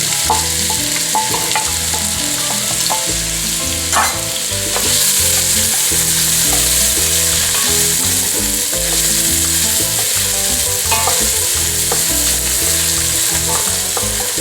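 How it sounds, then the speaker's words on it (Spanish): Diced onion hits hot oil for a Peruvian squash locro, giving a loud, steady sizzle that holds for the whole stretch with no talking. "Tenemos el aceite caliente, entonces ponemos la cebolla picada en cuadritos como dijimos."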